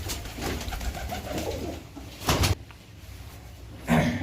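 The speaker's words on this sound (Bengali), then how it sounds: "আচ্ছা, পায়রাটা ছেড়ে দাও।" Pigeons coo at close range amid rustling and handling noise, soft throaty calls rising in two brief louder bursts against a steady background hiss.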